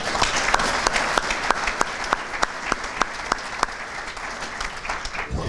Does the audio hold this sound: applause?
yes